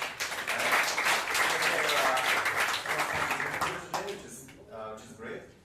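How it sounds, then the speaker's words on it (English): Attendees at a React developer meetup applaud for several seconds, the clapping fading out near the end while a voice speaks over it. "give yourself a big round of applause"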